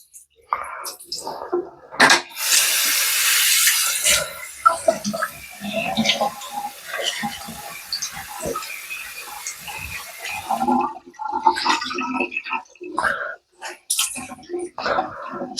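Tap water runs and splashes while a stiff synthetic wig is rinsed out after soaking in softener, a continuous rushing stream with intermittent gurgles and handling noises, a voice speaking now and then.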